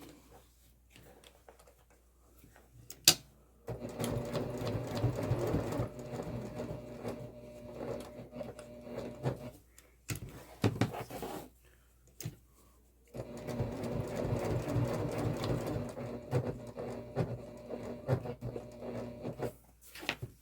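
A sewing machine stitches a box pattern around a messenger bag strap in two steady, buzzing runs of several seconds each, close and fairly loud, separated by quiet handling and a few clicks.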